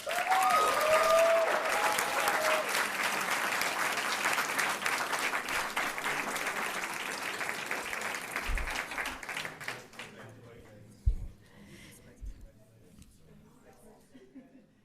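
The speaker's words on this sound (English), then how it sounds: "Let's give them a round of applause" A school board meeting audience applauds, loud sustained clapping that fades out after about ten seconds, followed by a few scattered sounds in a quieter room.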